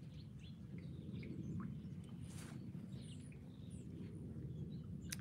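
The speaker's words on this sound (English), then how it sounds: "Listen to the birds. Isn't that pretty?" Birds chirp faintly in a backyard vegetable garden laid with woodchips, scattered short calls sitting above a steady low outdoor rumble.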